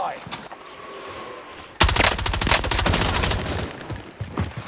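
Gunfire bursts out suddenly in a shooter video game after a quieter stretch, turning into fast rattling automatic fire that keeps going under a player's talk.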